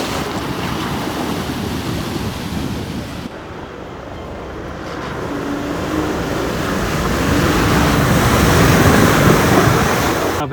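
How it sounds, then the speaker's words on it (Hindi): A vehicle splashes through a river crossing on a mountain road, a loud continuous rush of churning water and wind buffeting that swells steadily toward the end, with faint voices underneath. "भाई ये गई है जतिन भाई की गाड़ी, ये पानी डालते हुए आ रहे हैं हमारे।"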